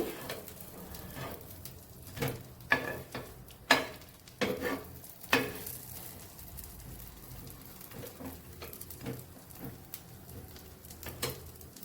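A sandwich toasts in a pan with a soft, steady sizzle, broken by clicks and scrapes of a turner. A few louder bumps come early, and a pigeon coos faintly in the background.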